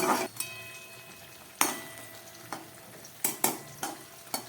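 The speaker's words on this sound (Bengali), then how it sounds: "নুনে ভেজানো শিমগুলো দেখুন কত সুন্দর ভাজা হয়ে গেছে" Salt-soaked flat beans (shim) fry softly in a pan with a low, steady sizzle, broken by several sharp scraping stirs of a spatula against the metal, close and quiet, with no talk.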